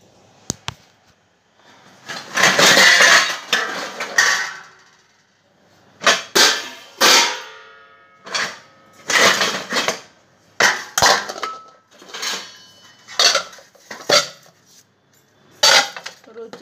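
A big pile of metal dishes and pots is handled in bursts of loud clattering, clanking and scraping, separated by short pauses.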